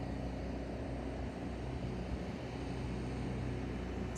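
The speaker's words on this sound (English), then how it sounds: "You can see this helicopter here." A firefighting helicopter circles low over a wildfire in Wears Valley, Tennessee, its steady rotor and engine drone filling the air continuously and loudly, with no voices.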